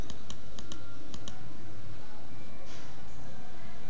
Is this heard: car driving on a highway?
no